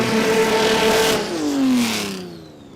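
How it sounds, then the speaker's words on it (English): A Pontiac top sportsman drag race car at Willowbank Raceway in Queensland revs hard, its engine pitch climbing, dropping and rising again in loud sweeping surges before fading. "It's got a lot of revs on board, and that is because it's Colin Lloyd in the Pontiac"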